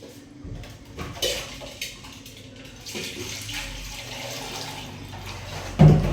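Water pours into a pressure cooker over mixed mutton biryani ingredients, a steady, moderately loud splashing flow with a few clanks near the end.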